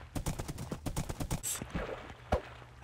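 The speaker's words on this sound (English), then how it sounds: "Alright, so I actually like riding this horse." Horse hooves clip-clop at a quick, steady pace while riding a horse in Minecraft, the regular hoof beats close and clear, ending with a brief whinny-like burst near the end.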